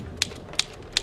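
Typewriter keys struck slowly, three evenly spaced crisp clacks about a third of a second apart over a faint hum, close and alone.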